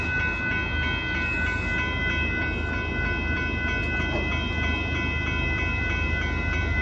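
A southbound Union Pacific mixed freight train rolls past at Dittmar in Austin, Texas, giving a steady, loud rumble with sustained tonal whine from the cars throughout, no voices.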